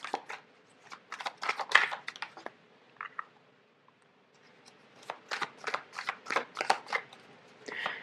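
Tarot cards riffled and shuffled by hand in repeated quick bursts of crisp flutter and snaps, with a short pause in the middle before another run of shuffling, close and clear with no talk.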